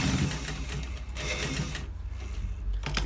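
A sewing machine stitches a shawl collar seam through to its end, a rapid mechanical needle patter up close, running steadily with short lulls before a final burst.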